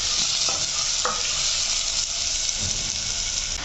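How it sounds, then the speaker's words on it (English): Onions fry in a pan for a pasta dipping sauce, giving off a loud, steady sizzle with a few faint stirring scrapes and no talk. "So I'm just going to fry this till it is almost starting to brown, or until they are translucent"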